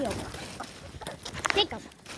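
Backyard laying hens cluck and make short squawks in a muddy coop, moderately close, with a person's voice speaking over the birds.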